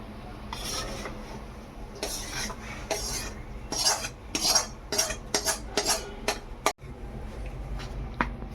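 Roasted besan (gram flour) for laddoos being stirred in a pan, a sequence of metal spoon scrapes and clinks against the pan, growing busier and louder midway, with a sharp clang near the end.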